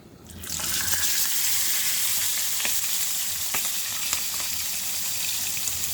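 Galunggong fish frying in a pan for a home-cooked meal, giving a steady, close hiss of sizzling oil with faint scattered pops that starts at once and carries evenly throughout, with no talking.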